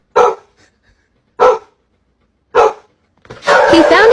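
A dog gives three sharp, separate barks at even intervals, then a louder, denser burst of barking or yelping near the end, close and clear with nothing else underneath. The dog is reacting to balloons at bedtime in a home.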